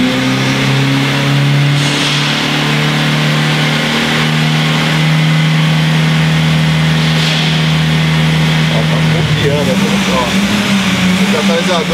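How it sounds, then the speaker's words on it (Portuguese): Car engine revs up as it is accelerated during oxygen sensor diagnosis, a loud steady hum with a rising pitch near the end, someone talking over it. "Vamos lá, vamos acelerar um pouco o carro, vamos ver."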